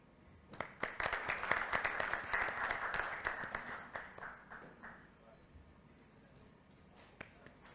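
Applause at a finance summit panel session as a speaker receives a memento, sparse snaps building into a dense burst of clapping that fades after several seconds, with a few scattered claps at the end.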